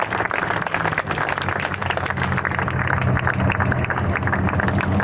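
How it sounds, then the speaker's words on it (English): A crowd at a race car demo day at the Simeone Museum applauds steadily with dense, continuous clapping, loud and even across the whole stretch. "I think a round of applause, folks."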